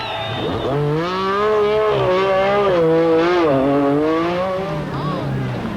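A 1986 Critérium des Cévennes rally car with a tricky steering fault labours around a hairpin. Its engine note rises and falls in loud, close revving as the driver works the throttle through the slow turn.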